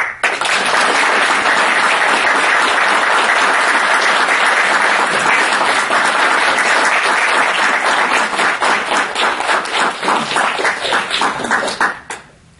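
An audience at an outstanding alumni award ceremony gives sustained, loud applause that holds steady and then thins out into scattered claps before stopping abruptly.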